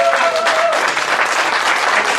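A studio audience at a Christmas late night show claps loudly and steadily, dense applause filling the whole moment.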